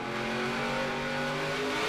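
A NASCAR stock car at full throttle in the 2011 Toyota All Star Showdown, a loud sustained engine roar holding steady and close for a brief moment.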